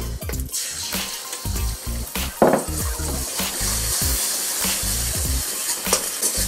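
Beaten egg sizzles and crackles in hot oil in a wok, with scraping and stirring knocks from a utensil against the pan.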